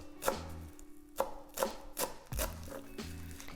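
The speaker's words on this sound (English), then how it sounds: "I'm going to chop most of the stalk off, and then just go ahead and try and chop it as fine as possible." A knife chops parsley finely on a cutting board for tabbouli, with five or six distinct, close, crisp thuds at a steady, unhurried rhythm and quiet gaps between them.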